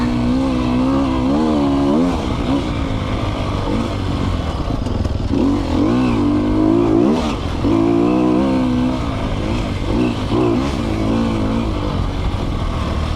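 A 2020 Sherco 300 SEF factory dirt bike engine revs hard and loud as the rider pushes fast through a section, its pitch rising and falling steadily throughout with clattering over rough ground and no talking.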